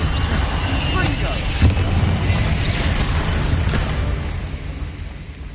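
Confringo fire spell cast in the Hogwarts Legacy video game, a dense low boom and rumble with a sharp burst near the middle, sustained loud blasts under faint game voice.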